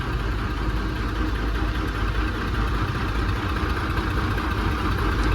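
A 1984 Mercedes turbo type 917 engine runs steadily, a loud, even, smooth mechanical drone heard close up with no talking over it.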